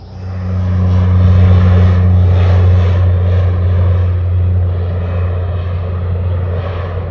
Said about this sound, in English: The crop duster.